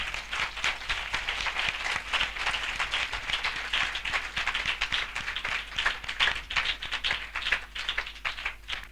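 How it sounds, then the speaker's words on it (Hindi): A congregation at a spiritual assembly claps in welcome, a steady patter of many hands heard faintly and somewhat distant, continuing evenly throughout. "हम जोरदार ताली से उनका स्वागत करें"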